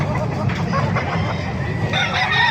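A rooster crows amid a busy, noisy background of clucking fowl and general chatter at a chicken market in Calumpit, Bulacan, fairly close and loud.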